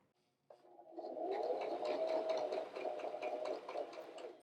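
A sewing machine running steadily while quilting a quilt, a continuous close whirring stitch that starts abruptly after a brief silence and holds for several seconds.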